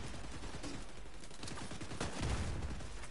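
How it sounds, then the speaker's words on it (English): Rapid bursts of gunfire and grenade blasts from the video game The Division 2 crackle in a dense, continuous fusillade, with a heavier low thump near the end and no speech. "Somebody was shooting grenades a moment ago."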